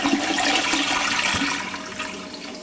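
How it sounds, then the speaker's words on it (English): A Glacier Bay low-flow dual-flush toilet runs a full flush, with a loud, close rush of swirling water that holds steady for about two seconds before it starts to taper off. "we'll go ahead and flush it so you can see what a toilet looks like when it flushes"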